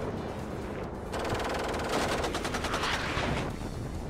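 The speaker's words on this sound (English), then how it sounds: "Artillery's trying to finish off the job it started." Battlefield gunfire and artillery in the WARNO real-time strategy game, a dense, continuous crackle of rapid shots and booming impacts swelling loud after the first second, with no talk.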